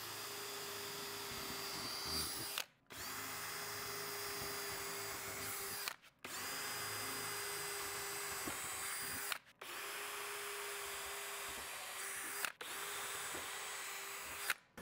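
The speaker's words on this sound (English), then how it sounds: "I'm gonna drill my holes just in those little center marks that I did." A power drill whirs steadily through wood in four long runs while building a composting toilet, each stopping briefly before starting again, loud and close.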